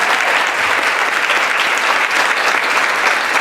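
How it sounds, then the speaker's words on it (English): An audience at an International Women's Day chamber of commerce event applauds loudly and continuously, a dense wash of clapping with no break. "Just keep the applause going, please,"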